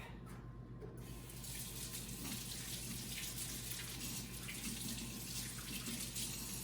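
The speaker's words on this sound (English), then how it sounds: "I'll run over here and wash my hands real quick" Hands being washed under a running kitchen tap, a steady broadband rush of water splashing into the sink for several seconds, close and continuous, with a brief softer moment at the start.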